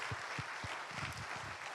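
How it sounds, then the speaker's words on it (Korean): A church congregation claps in rhythm, several distinct claps early on, then merging into a denser patter at a moderate, somewhat distant level with no speech. "우리 시간 우리 박수로 하나님께 영광 돌리게 하시고요."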